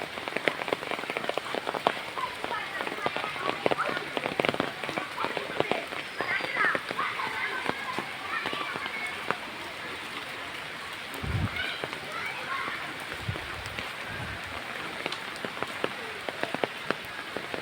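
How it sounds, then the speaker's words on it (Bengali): Light rain falls steadily in a village during mango season, a continuous patter of drops on surfaces with occasional louder taps nearby, while voices speak faintly in the background. "আর বৃষ্টির ফোঁটা পড়ছে"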